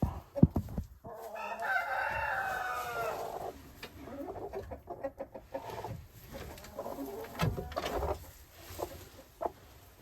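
A hen in a nesting box sitting on a fake egg clucks and calls in a steady series of close, moderately loud clucks, with a few short pauses and sharp bursts between them.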